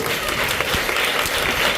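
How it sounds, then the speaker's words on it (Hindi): A church congregation claps together in praise during a Hindi sermon, a dense burst of hands with a few sharper individual claps standing out, fairly close and continuous across the moment, with no speech over it. "ताली बजा के प्रभु का नाम को, एक ताली है अच्छे से"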